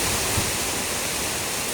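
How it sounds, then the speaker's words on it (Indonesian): Strong gusty wind ahead of heavy rain in northern Surabaya, a dense steady broadband rush roaring continuously through the whole short stretch. "Wah, ini anginnya datang lagi ini"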